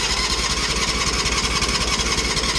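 A small cheap engine with a choke, bought on Temu and prone to losing prime, runs with a loud, steady, buzzing putter, heard close and alone.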